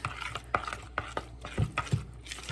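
A spoon stirs chili powder into enchilada sauce in a bowl, making a series of close, scraping and tapping strokes in an uneven rhythm with no voices.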